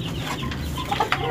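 Several chickens cluck softly and irregularly nearby, with a few sharper squawks near the end, amid a low background hum.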